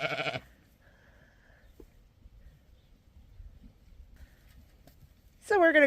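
Lambs bleat loudly from a sheep shed on a farm during a blizzard, a burst at the start and another at the end, with quiet stretches of faint shuffling between.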